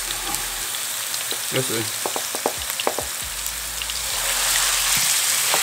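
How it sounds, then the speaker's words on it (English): Ground turkey sizzles and crackles steadily in a hot pan, close up, with a few sharper pops and a brief spoken remark over it. "Listen to that sizzle."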